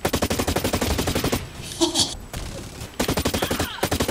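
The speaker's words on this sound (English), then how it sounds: "Oh, it's a turret!" Turret firing in the shooter game Blacklight Retribution, loud rapid automatic bursts of gunfire close by, stopping for a brief gap with a whoosh and impacts, then resuming in fast repeated rounds.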